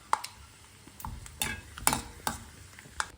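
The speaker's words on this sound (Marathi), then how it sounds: "आता हे दाणे तळून या सगळ्या पोह्यामध्ये एका मोठ्या कढईमध्ये सगळं घेणार आणि हे दाणे तळणार दाणे तळणं सुरू आहे सध्या" Peanuts fry in oil in a large kadhai, a steady soft sizzle punctuated by a few sharp clinks and scrapes of a stirring spoon against the metal, close and fairly quiet, with no talking.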